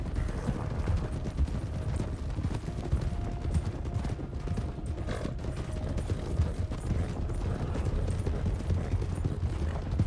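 Horse hooves clip-clopping steadily as a horse is ridden in the RedM western roleplay game, a continuous rhythmic trot under a dense, constant layer of game ambience with no talking.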